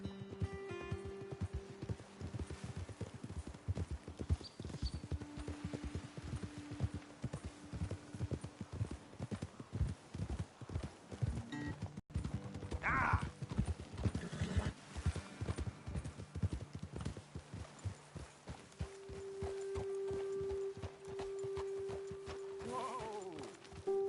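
Horses trotting and galloping in the video game Red Dead Redemption 2, a dense continuous clatter of hoofbeats with tack jingles, a brief whinny and snorts, plus a faint sustained musical tone under the hooves.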